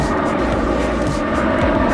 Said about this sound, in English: The plane coming in.